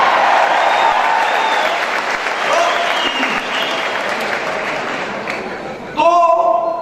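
An event audience breaks into loud, sustained clapping and cheering, close and dense, easing off before a voice cuts in at the end.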